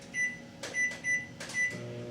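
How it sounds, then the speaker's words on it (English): A kitchen microwave oven heats water for bread dough, giving a steady hum broken by a few short, bright bursts over roughly two seconds. "I'm going to put the water in the microwave to just heat it up"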